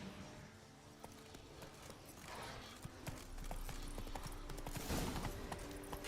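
Hooves of the horse Roach clip-clopping in The Witcher 3: Wild Hunt, Blood and Wine expansion, a steady faint gait under game ambience, building slightly toward the end, with no talk.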